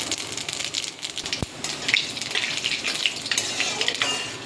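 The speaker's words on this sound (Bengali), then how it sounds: "দিয়ে দেবো 1 চামচ 5 ফোড়ন।" Whole dried red chilli, a bay leaf and a spoonful of panch phoron crackling and sizzling in hot oil, a steady close frying hiss with a brief sharp tap partway through.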